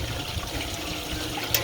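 Steady water flowing and splashing at a playground water play area, a continuous close rushing trickle with no voices.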